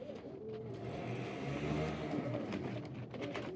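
Pigeons coo softly in low, rolling murmurs, faint and close, with a voice murmuring quietly among them.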